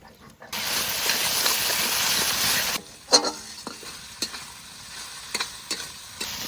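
Fried onion sizzling in a pan as ginger-garlic paste goes in: a loud hissing fry for a few seconds, then it drops to a quieter crackle broken by scattered spatula clinks and scrapes.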